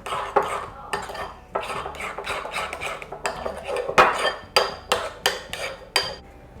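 A spoon mixes yogurt with salt and black pepper in a bowl, making rapid repeated clinks and scrapes against the sides. The sound is close and steady, with no voices.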